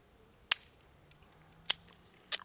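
A Taurus Ultra-Lite titanium revolver fires three sharp gunshots, spaced about a second apart, each a loud crack over a quiet background with no talking.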